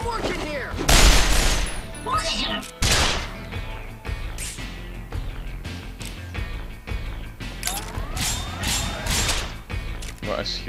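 Gunfire in the video game Resonance of Fate, dense bursts of shots and crashes in an arena battle, loud and close, with someone talking over the action.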